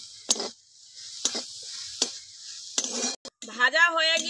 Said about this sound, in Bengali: সজনের পাতা ছাড়াতে ছাড়াতে আমি চিংড়ি মাছগুলো ভেজে নিচ্ছি।